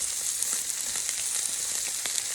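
Shrimp fry in a pan with a steady, bright sizzle that hisses on continuously at moderate volume, broken by faint crackles and pops.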